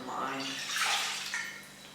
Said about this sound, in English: I'm going to pour that into the saucepan.